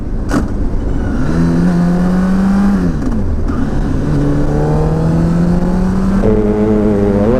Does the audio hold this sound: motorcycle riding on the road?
yes